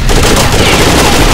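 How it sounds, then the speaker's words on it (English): Rapid gunfire in the video game Rainbow Six Vegas 2, a loud, dense burst of automatic shots, close and continuous across the brief moment. "Yeah, I hear gunfire downstairs"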